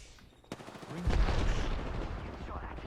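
Automatic SMG fire in Apex Legends, a dense burst of rapid shots starting about a second in and sustained at close range over a noisy firefight mix.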